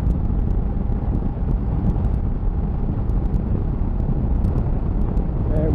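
Heavy, constant wind roar buffeting a helmet while riding a KTM 390 Adventure motorcycle at 70 mph on the road, loud and unbroken, with the engine buried beneath the rush.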